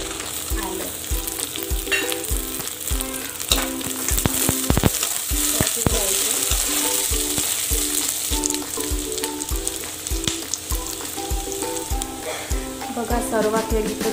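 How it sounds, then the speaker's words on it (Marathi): Onions frying in a pan for a restaurant-style egg curry give a steady, loud sizzle with rhythmic clinks and scrapes of stirring, over kitchen background with music-like tones. "आपल्याला कांदा चांगला भाजून घ्यायचा आहे"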